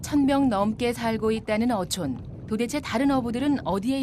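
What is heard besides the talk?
No everyday noise stands out behind the speech.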